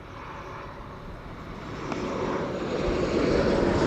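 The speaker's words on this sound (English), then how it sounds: "KLM flight 706 for instance, and 792 that are now arriving from the southwest" KLM airliners arriving at Amsterdam Schiphol Airport on approach from the southwest, with a broad, steady engine roar that swells and grows louder as the aircraft draws closer.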